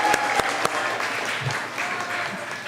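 An audience at an open mic for writing fellows applauds the Fiction Pod group, dense continuous clapping with a few sharp close claps at the start, filling the room and gradually easing.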